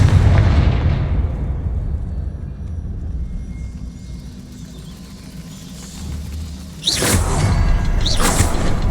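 A Confringo blasting spell exploding in Hogwarts Legacy, opening on a heavy booming blast that rumbles and slowly decays, followed later by two sharp, bright bursts, loud and close with no talking.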